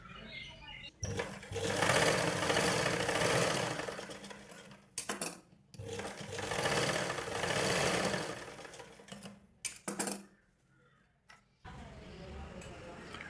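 A sewing machine stitches a blouse along a marked line in bursts of rapid, steady mechanical whirring, with short pauses and small clicks and handling sounds between runs, while a person talks softly.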